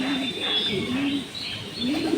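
Pigeons coo in a racing pigeon loft, a close, steady murmur of low rolling calls with occasional higher chirps.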